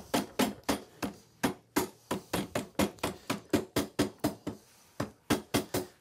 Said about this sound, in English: Now we're going to tap the axle.